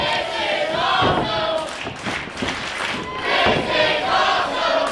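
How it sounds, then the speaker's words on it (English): A wrestling crowd at an independent show in Hamilton chants in rhythmic surges after a near-fall, and the loud massed voices swell and dip in waves with cheering and thuds mixed in. "You hear the "This is awesome" chants coming up from the crowd here tonight."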